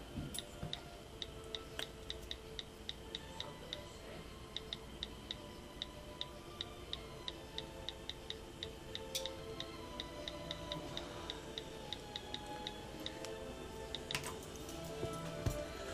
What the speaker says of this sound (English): Hear that keyboard a-clicking.